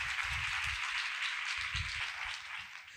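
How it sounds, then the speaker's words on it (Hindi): A church congregation bursts into loud, sustained applause for God's glory during a service, a steady wash of clapping that holds for about three seconds before starting to fade. "खुदा के जलाल के लिए जोरदार ताली"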